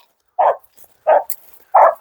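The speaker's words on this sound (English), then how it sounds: "good boy, Tan, good dog." A dog on a pig-hunting outing barks three times in a steady rhythm, loud and close, with short quiet gaps and no talking over the barks.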